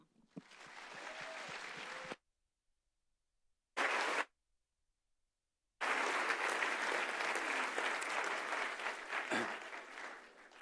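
An audience applauds to welcome Dr. Hutchinson at a Veritas Forum talk at UVA: a sustained burst of clapping, a short pause with a brief flurry, then a longer loud round of applause filling the hall.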